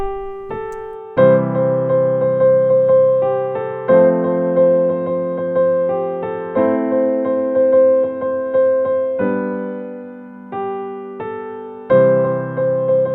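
Piano plays a melody over full sustained chords, each new chord struck firmly every couple of seconds and left to ring.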